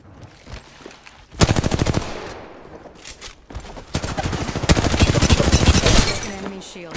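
Rapid bursts of automatic gunfire in a shooter video game, loud and close, with one short volley followed by a longer sustained stretch of fire.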